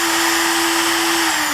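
A handheld power router runs with a steady, loud, high-pitched motor whine up close, sustained without pause.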